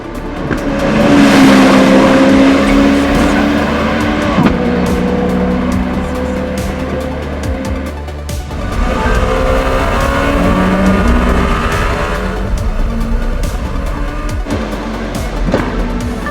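A Czinger 21C hypercar drives past with a loud, steady engine note, rising and falling as it accelerates, with tire squeal and no speech.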